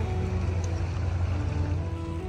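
River water rushes steadily and loudly close by in an outdoor setting in Sulaymaniyah, Kurdistan, a constant broadband wash with no break and no talk.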